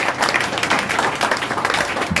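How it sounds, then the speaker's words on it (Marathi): An audience at a school uniform and supplies distribution event breaks into dense, steady applause, many hands clapping together close by for a couple of seconds. "त्यांना सुद्धा आपण अगदी जोरदार टाळ्या वाजून त्यांना सुद्धा आपण धन्यवाद देऊया"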